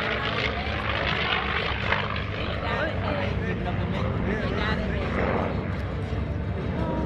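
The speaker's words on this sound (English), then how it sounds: "now the P-51 Mustang back in from your left" A P-51 Mustang propeller fighter roars past low at an airshow, a loud, sustained broadband engine drone that holds steady throughout with no pause.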